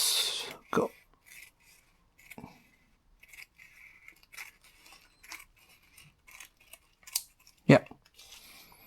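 Scissors snip a roasted nori seaweed sheet in half while preparing uramaki sushi, giving a few sharp crisp cuts spaced apart, with soft rustling between and a brief spoken word.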